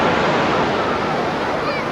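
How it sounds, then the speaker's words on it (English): Broadband surf wash at a crowded Santa Monica beach on a day of small waves, a steady, dense roar of breaking water with faint crowd murmur mixed in, continuous and fairly loud throughout. "on this day the waves are not large, allowing the crowds to swim without having to fight against the surf"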